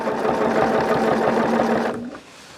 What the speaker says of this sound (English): on the front, I'm sewing it at 1/4 now